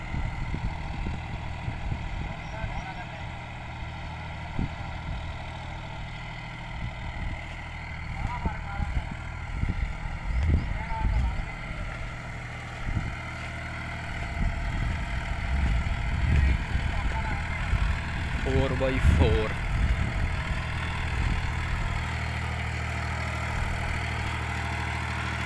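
A tractor engine, one of a New Holland 3630, Farmtrac 60 or John Deere 5105, runs at a steady low throb near idle for a long stretch, with occasional knocks and rattles.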